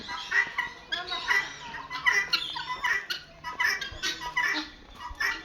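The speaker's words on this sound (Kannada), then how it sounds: "ಜಂಗಲಿ ಕೋಳಿ ಇದೆ" Several jungle fowl call nearby in a continuous overlapping chorus of squawks and clucking cries, fairly loud and restless throughout.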